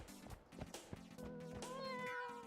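Cat meows from a cat mod in the video game Noita, several short mews in a row, the last drawn out and rising, close and clear over a faint game backdrop.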